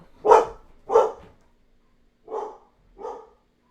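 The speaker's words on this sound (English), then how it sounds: "Okay, so I kicked the dogs out." Dogs bark four times, two louder barks close together followed by two softer ones after a pause, with silence between.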